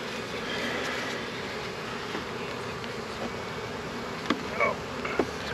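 Honeybees buzzing around an opened backyard hive during an inspection, a steady close droning hum with a few louder individual bees passing near, no talking.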